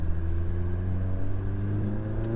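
A 290 kW Mk7 GTI pulls hard under acceleration, its engine droning loud and steady with strong rising harmonics from inside the car.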